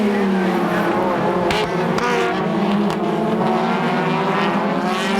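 A Toyota TRD Hachiroku race car howls at high revs during a race, its engine note loud and sustained with a slight pitch rise, a few brief gear-change dips along the way.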